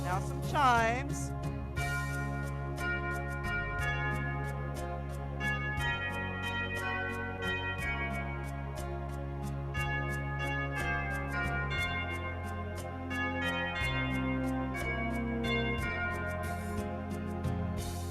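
Chimes voice on an EY series keyboard, bell-like tones forming a slow melody over a steady sustained accompaniment, ringing moderately close with no talking.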